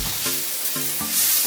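Seafood chow mein noodles stir-fried in a pan, a loud, close, continuous sizzle with stirring, brief and without talk.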